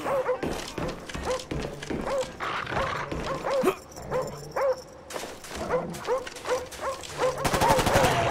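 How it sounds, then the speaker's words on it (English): Attack dogs barking and yelping in Call of Duty Black Ops combat training, repeated sharp barks over a busy mix of gunfire and game effects, with a faint voice now and then. "Friendly dogs inbound."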